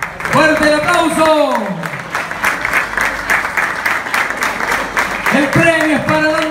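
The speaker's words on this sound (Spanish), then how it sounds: "¡Fuerte el aplauso!" Applause at a carnival award ceremony in Corrientes, a loud, sustained wash of clapping from a crowd, with an amplified voice speaking over it at the start and again near the end.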